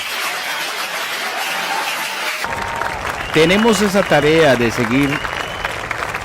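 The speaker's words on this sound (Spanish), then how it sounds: "se merecen un aplauso" An audience applauds at a political gathering, the clapping starting midway and continuing steadily while someone speaks over it.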